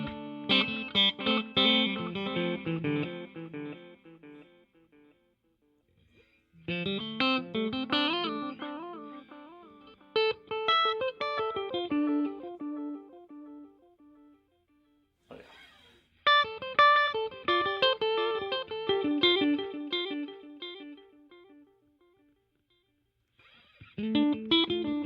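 An electric guitar played through a Donner reverb and delay pedal rings out in separate phrases, each trailing off into fading echoed repeats between pauses.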